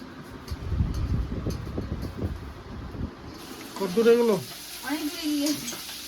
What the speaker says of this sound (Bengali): কলমি শাক ভাজা করব